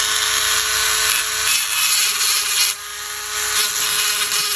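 An old knife blade is scuffed by hand against an abrasive, giving a close, dry rasping scrape in uneven strokes that briefly pause and resume, with no talking.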